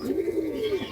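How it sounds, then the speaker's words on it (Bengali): A single soft, rolling coo comes from a deshi pigeon at a farm that keeps about 250 pigeons in baskets. The call is close and clear against quiet surroundings. "ময়ূরপঙ্খী, বিভিন্ন জাতের কবুতর আছে।"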